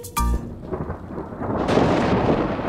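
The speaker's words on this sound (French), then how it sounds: "Pluie, pluie, disparaît, revient une autre journée." A loud thunderclap opens a cartoon rainstorm in a Cry Babies Magic Tears episode, then heavy rain sets in with a steady, close rushing patter that swells and continues to the end.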